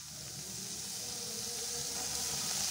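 Chopped onions sautéing in a pan for snake gourd kootu over lowered heat, giving a faint, even hiss that swells slightly toward the end, with no voices.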